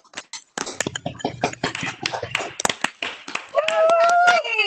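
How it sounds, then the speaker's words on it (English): Participants in an online Delta Mu Delta honor society induction clap for new Kappa Omicron members through unmuted microphones, giving uneven, scattered claps and taps of varying loudness, then overlapping voices and a tonal sound near the end. "please unmute your mics and join us in a round of applause to welcome all of the new members"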